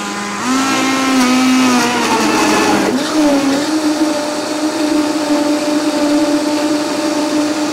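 A kitchen blender whirs loudly and steadily as a smoothie is made, its motor pitch shifting and dropping partway through before settling into a continuous, close, high-energy drone with no talking.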